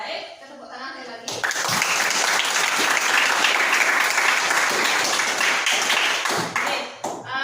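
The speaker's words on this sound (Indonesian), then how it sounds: "Tepuk tangan sekali lagi." A room full of people bursts into loud, sustained applause for several seconds after a presentation and a brief voice, then the clapping fades.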